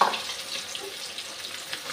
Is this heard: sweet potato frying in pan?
yes